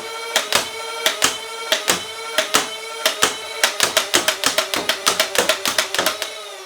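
A Dart Zone Pro MK3 foam dart blaster fires at a close target roughly 25 feet away, giving a quick run of sharp, snappy clicks that speeds into a dense, near-continuous stream, loud and close with no talking.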